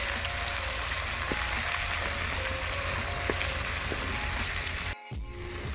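Potato and carrot pieces frying in a pan for a dhaba-style mixed vegetable sabzi, with a steady close sizzle, light stirring scrapes and a brief clunk near the end.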